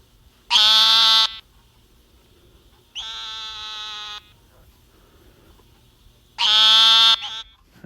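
A bullfrog calls in three separate loud, droning croaks, each lasting about a second, with quiet gaps between them, close and clear with no talking.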